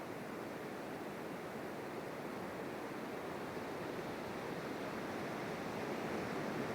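Rough surf crashes steadily on a New Zealand beach, a dense, continuous roar of breaking waves with some wind buffeting the microphone, loud and unbroken throughout with no voices.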